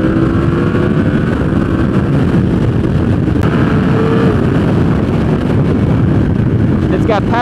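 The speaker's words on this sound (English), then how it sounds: "it makes a really exotic sound. It doesn't sound like a traditional inline 4-cylinder motorcycle" A Yamaha R1 inline-four sport motorcycle engine drones steadily while riding on the highway, loud and continuous beneath heavy wind buffeting on the microphone throughout.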